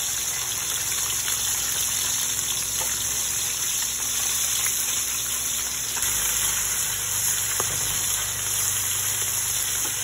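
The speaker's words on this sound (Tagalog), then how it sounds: "Habang nagpiprito nga ako mga tayo ng isda" Fish frying in hot oil in an outdoor beachside cooking setting, a steady close sizzle and hiss lasting throughout with faint background noise and no talk.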